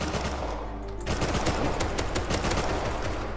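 Rapid automatic gunfire in the survival game Rust, dense bursts of shots rattling almost continuously, loud and close, with a short lull before the firing resumes.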